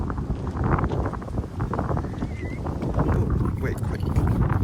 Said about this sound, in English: it's cold because it's so windy